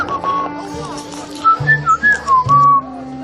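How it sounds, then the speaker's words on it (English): A person whistles a short wavering melody in a series of clear pitched notes over a low steady hum, with a faint voice in the background. "So that's why I feel confident about doing it, because I know I can whistle."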